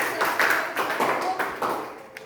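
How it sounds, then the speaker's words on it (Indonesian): Classroom of students clapping for a group, a short burst of scattered claps at moderate level, uneven and loosely rhythmic, fading out after about two seconds. "Kita beri tepuk tangan dulu untuk kelompok 2."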